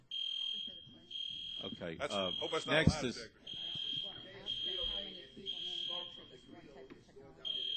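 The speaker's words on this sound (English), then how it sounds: "So the smoke from the grill is triggering an alarm" A fire alarm set off by smoke from a grill sounds in a committee hearing room: a loud, shrill buzzing tone in repeated long pulses, with several people talking over it.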